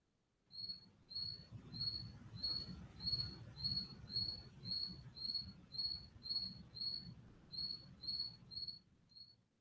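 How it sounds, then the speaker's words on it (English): A lone cricket chirps steadily in the distance, about fifteen short evenly spaced chirps sounding faintly over a low rumbling background. "this one single solo cricket that's off in the background"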